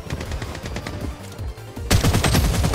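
AK47 rifle fire in the Blood Strike shooter game, heard as rapid automatic bursts of sharp cracks, close and loud, with a brief lull before a denser, louder volley near the end, no speech.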